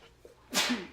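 A single sharp sneeze bursts out close by after a brief quiet breath, loud and explosive with a short trailing tail.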